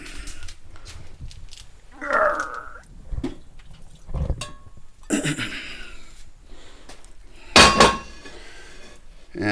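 Oil poured out of a frying pan used for cooking pork steaks, heard as clattering pan and utensil knocks with a brief splashy burst near the end, close and moderately loud.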